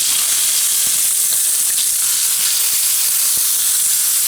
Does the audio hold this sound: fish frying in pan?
yes